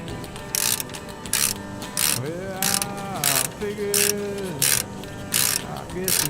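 A 22 mm socket on a ratchet tightening brake bolts on a Ford F350 during a brake pad replacement, heard as repeated loud bursts of ratcheting clicks in a regular rhythm, close up, with tonal squeaks and some speech-like sound between strokes.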